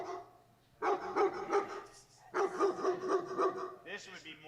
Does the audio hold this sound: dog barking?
yes